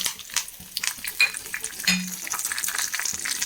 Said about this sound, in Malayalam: ഇനി നമ്മൾ ഈ കൊണ്ടാട്ടം മുളക് ഇതിലേക്ക് ഇട്ട് കൊടുക്കും വറുക്കാനായിട്ട്